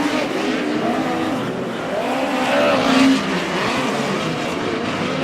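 Midget race cars in a POWRi West heat race at Airport Raceway roar around the track, an engine howl that swells as the pack passes, with trackside commentary.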